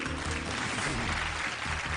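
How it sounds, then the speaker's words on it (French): Studio audience applauding on a French TV quiz game show, a steady dense wash of clapping throughout with a low voice or music hum underneath. "le public applaudit"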